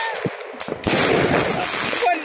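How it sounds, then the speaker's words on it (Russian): Neighbours set off New Year fireworks outside, a rapid crackling and popping barrage with sharp bangs, loud and somewhat distant, with people talking over it. "мы сейчас смотрим, как наши соседи всякие пускают салюты"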